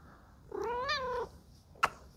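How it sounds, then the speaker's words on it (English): A house cat gives a single close, clear meow lasting under a second, followed after a short pause by a sharp click; nobody speaks. "There's a kitty over here."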